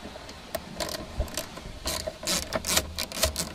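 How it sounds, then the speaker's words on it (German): A hand ratchet loosens Torx screws on a VW Touran 1T steering column, giving bursts of quick, close clicking in irregular spurts, loud and alone. "Dann lösen wir einmal die Schrauben hier schon mal."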